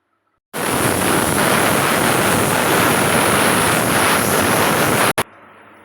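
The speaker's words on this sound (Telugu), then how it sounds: "మనకు 3 విజిల్స్ వచ్చినాయండి." A pressure cooker whistle blasts as steam vents, a loud, dense hissing shriek that starts abruptly, holds steady for several seconds, and cuts off sharply, heard alone up close.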